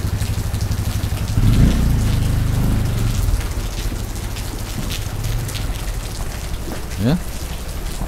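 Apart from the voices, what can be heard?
heavy rain pouring down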